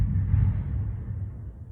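Demolition of a fire-gutted house across the road makes a steady low rumble of heavy machinery, heard from a distance with no distinct impacts.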